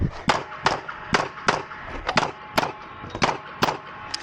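Rapid gunfire at a USPSA practical shooting stage: about a dozen sharp, close shots in quick, uneven pairs and bursts over a few seconds, each with a short ringing tail.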